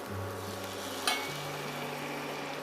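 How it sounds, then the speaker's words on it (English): Port wine poured into a hot pan of browned onions for French onion soup, bubbling and sizzling steadily with a faint stir and a brief splashy burst midway, no voices. "porto wine, instead of white wine, because it will give once more color to your soup. A very nice porto. So we deglaze"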